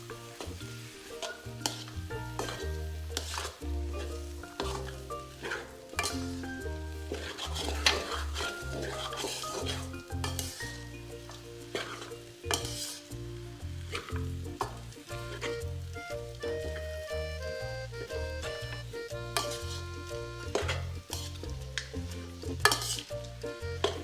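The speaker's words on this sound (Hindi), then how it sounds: "इसको थोड़ा सा हम भूनेंगे, जब ये घी छोड़ देगा थोड़ा तो फिर हम इसका चूल्हा बंद कर देंगे।" Halwa is stirred and roasted in ghee in a pan, a sustained sizzle under constant scraping and clattering of a spoon against the metal, close and busy throughout, without speech.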